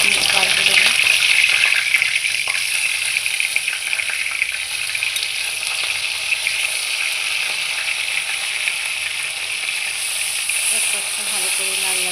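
Katla fish frying in hot oil with cumin and black pepper, a loud, dense, continuous hiss and sputter close up, with faint scraping as the fish is turned.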